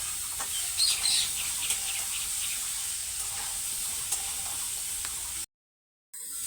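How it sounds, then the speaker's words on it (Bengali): Potato pieces frying in a pan while being stirred, a steady soft sizzle with faint scraping under it, fairly quiet, cutting out to silence near the end. "আলুটা একটু সাথে নেড়ে চেড়ে একটু ভেজে নিচ্ছি"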